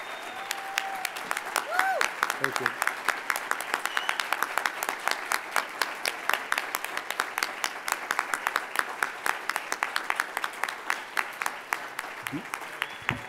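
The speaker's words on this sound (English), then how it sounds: "please give him a round of applause" An audience at a Latino caucus opening session applauds an honoree, the chief federal judge of the Northern Illinois District, with steady, sustained clapping from a large crowd in an indoor hall, a few voices briefly heard over it.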